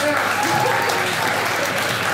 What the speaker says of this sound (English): Clap for yourselves and for all of us.